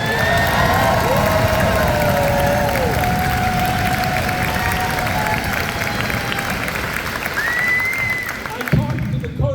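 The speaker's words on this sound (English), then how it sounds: "Let's give them a round of applause." Town hall audience applauding the fishermen's wives, a steady wash of clapping with cheers and whoops throughout, fading slightly toward the end.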